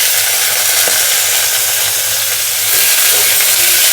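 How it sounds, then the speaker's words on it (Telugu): Cumin and finely chopped tomato pieces fry in a pan of oil for a Telugu cluster-bean and black-eyed-pea chutney, giving a steady close sizzle that swells a little louder near the end. "టమాటా ముక్కలు మెత్తబడేదాకా మూత పెట్టుకొని ఫ్రై చేసుకుందాము."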